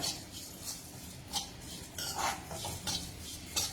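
Grated dry coconut dry-roasting in a pan, stirred with a metal spoon: repeated light scrapes and clinks against the pan at an irregular rhythm, close and moderately loud, with no talking.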